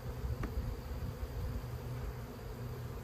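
Honey bees buzz steadily around an open hive during an inspection. The hum is low and continuous, and a single insect passes briefly close by early on.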